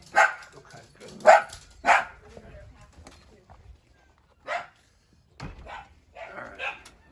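A dog indoors at a home gives a few sharp barks in quick succession, then scattered yips and whimpers, close and fairly loud, with people talking nearby.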